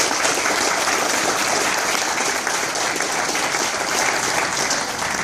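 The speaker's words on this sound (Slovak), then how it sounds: "ten veľký potlesk poprosím na úvod" Sustained applause from an audience at the Autoopravár Junior Castrol 2014 auto-mechanic youth contest ceremony at EXPOCLUB Incheba Bratislava, a dense, steady clapping wash that holds evenly loud for the whole stretch with no talk over it.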